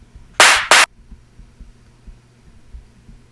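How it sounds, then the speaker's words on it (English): Two sharp, bright drum machine clap sample hits in quick succession, the second shorter, followed by near silence with a low hum. "then like for a clap, I have a dv8 clap."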